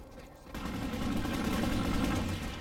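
Gunfire in the video game Planetside 2 starts after a brief quiet moment and becomes a sustained burst of automatic fire that runs to the end.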